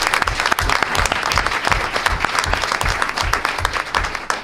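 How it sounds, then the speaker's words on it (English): An audience at a school board meeting breaks into steady applause for a girls' cross country team, the crowd's clapping dense and continuous for several seconds. "So a round of applause for them."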